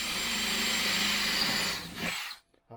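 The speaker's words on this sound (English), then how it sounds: "That drill might be a bit on the blunt side" A drill bores holes in the steel sill of a Land Rover Discovery 300 TDI, a steady close whine with grinding that cuts out abruptly near the end, followed by a short tail.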